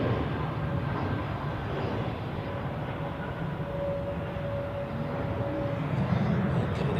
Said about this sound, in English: Okay, that's how the landings look like here.